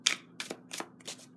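A heavily used deck of tarot cards is shuffled on a table, giving four crisp riffling bursts in a steady rhythm, close and fairly loud, with no talk.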